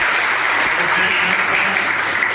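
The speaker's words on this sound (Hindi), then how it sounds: "आप जोरदार तालियों के साथ मैडम का स्वागत करें" Audience at a district youth festival applauding to welcome a woman guest, a steady, loud wash of clapping with a faint voice murmuring underneath.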